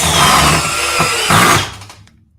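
A 12V Makita or Milwaukee driver spins against a stripped, cammed-out screw in a loud, close whir with a couple of brief surges, then winds down and stops.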